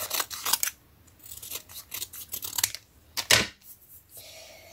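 Scissors snip through paper to cut small strips for a vintage scrapbook tag, a series of crisp, close cuts in quick bursts with short pauses between them, no talking.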